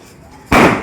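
A single sharp pop from a small needle firecracker bursts out loud after a brief quiet stretch, then quickly fades.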